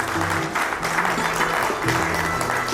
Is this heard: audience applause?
yes